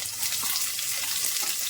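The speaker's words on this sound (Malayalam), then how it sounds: "ഇനി ചെറിയ ഉള്ളി അരിഞ്ഞത് ഇട്ട് കൊടുക്കാം" Chopped shallots hit hot coconut oil with toasted coconut pieces for a Kerala chickpea curry, giving a steady, close, even hiss of frying with no voices.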